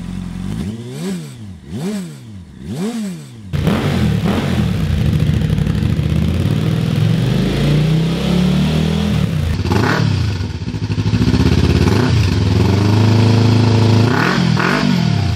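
A motorcycle fitted with a Scorpion aftermarket exhaust revs in several sharp, rising and falling blips, then settles into a loud sustained rumble with further throttle bursts, close and unaccompanied by talk.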